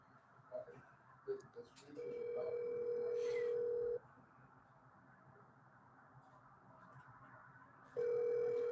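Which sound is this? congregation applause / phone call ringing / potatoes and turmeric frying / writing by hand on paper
phone call ringing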